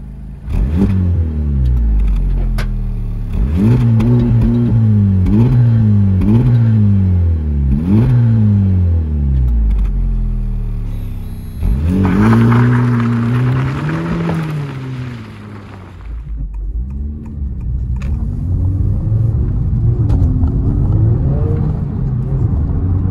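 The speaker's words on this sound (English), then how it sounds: "you've still got that center mounted triple exhaust system" A 2023 Honda Civic Type R FL5 revving hard several times in a row, rising and falling roars through its center-mounted triple exhaust, then a long loud acceleration, close and powerful.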